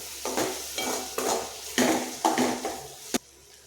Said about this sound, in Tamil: இதை அப்படியே லோ ஃப்ளேம்லேயே வச்சு 1 நிமிஷம் கிண்டி விட்டுக்குவோம்